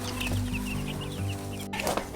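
Young chickens on a small farm clucking and chirping in soft, repeated calls over a steady low hum, with a brief rustle near the end.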